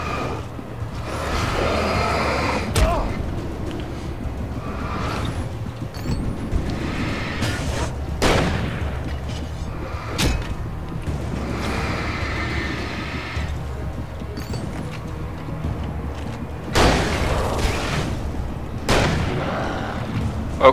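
Gunshots fired at enemies in the Alan Wake game, a series of loud booming shots spaced a few seconds apart over a constant rumbling background, with no talk.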